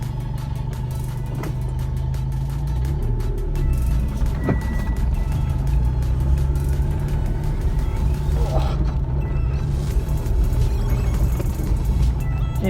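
A Holden Barina with a manual gearbox driving a short loop around the block, steady engine and road rumble running throughout, with a brief high beep partway through and occasional voices over the motor.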